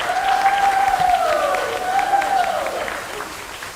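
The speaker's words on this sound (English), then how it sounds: "Give it up for Chambers Cheer." Sustained applause and cheering from a high school audience for the Chambers cheerleaders, steady and loud for several seconds, with a voice on a microphone carrying over the crowd.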